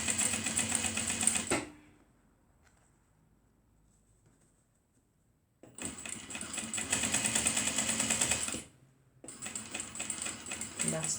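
Sewing machine stitching a waist bag seam along a marked line with back stitching: a close, steady, rapid mechanical whir in three runs separated by a long pause and a short one, with no talk.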